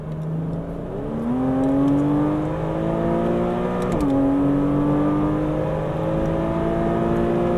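A Porsche Cayman R accelerates on the Pôle Mécanique Alès circuit, its engine note climbing steadily and loud, with a brief dip at a gear change before it keeps rising.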